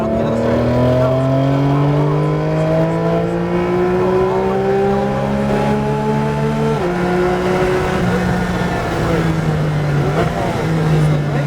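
A Porsche GT3 race car engine revs hard at full throttle and climbs steadily in pitch, drops briefly as it shifts gear, then keeps pulling loud and close throughout.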